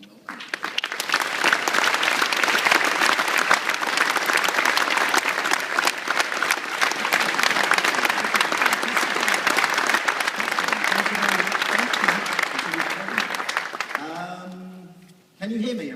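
A conference audience applauds to welcome a keynote speaker at the 133rd AES Convention, loud sustained clapping from a large crowd that fades near the end before a brief voice.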